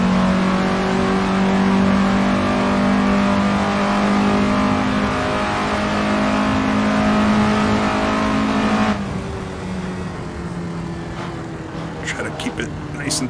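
A 1950s Indy race car engine in Assetto Corsa holds a loud, steady high drone at full throttle, then drops in pitch and level as the car eases off, with faint clicks near the end.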